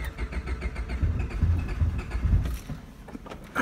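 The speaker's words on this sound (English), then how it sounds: "it's trying to start" An old, rusty car engine cranks over and over, trying to start, with a rough, uneven churning rumble that stays loud and close throughout.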